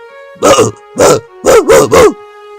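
A man imitates a dog, giving five loud, close barks: two spaced apart, then three in quick succession, over a steady hum.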